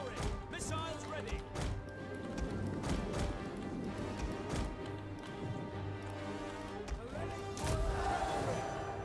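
Cavalry horse hooves clatter in Total War Rome 2, a steady run of overlapping clip-clop beats from massed riders, busy and mid-distance, with unit voice lines and crowd noise mixed in.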